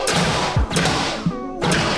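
A homemade gas-powered Star Wars blaster fires at targets downrange, producing sharp thumping shots with brief gaps between them, loud and close.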